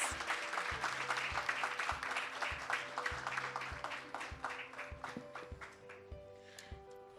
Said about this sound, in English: a huge round of applause for the esteemed panel